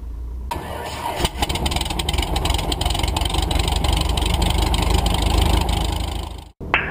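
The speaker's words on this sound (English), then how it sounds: "Zulu Victor Delta just taxiing out of the flying club, run up to Dookie 23, then departure to the east." A Van's RV6 light aircraft engine runs steadily and loudly up close as the plane taxis out from a flying club, with a brief cut near the end.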